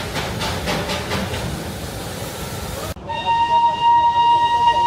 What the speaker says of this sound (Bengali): হুইসেল বাজিয়ে ধোঁয়া উঠিয়ে ঘুম থেকে দার্জিলিংয়ের উদ্দেশ্যে রওনা দিল আমাদের এই জয় রাইড